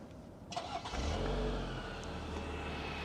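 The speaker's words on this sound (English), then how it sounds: "This model also has remote start, so just lock the vehicle and then you can double tap on the button underneath it and bring this to life." A 2025 Chevrolet Traverse High Country engine starting by remote start: near-silence, then a brief crank and a quick rise in revs that settles into a steady idle, fairly faint and heard from outside.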